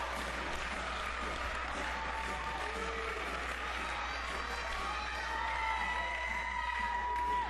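Wrestling crowd at a Liberty States Wrestling match cheering and applauding as Matt Taven rallies support, a steady dense roar of claps and voices that swells slightly toward the end.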